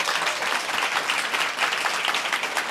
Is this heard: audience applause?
yes